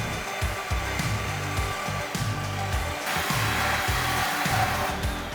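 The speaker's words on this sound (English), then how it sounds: "Just grab a Sawzall or whatever you have and just make a nice clean cut." A Sawzall reciprocating saw cutting through the exhaust pipe after the muffler on a 2014-2018 Silverado/Sierra, a loud, continuous buzzing motor drone with a chattering, pulsing low-end judder from the blade working through the metal.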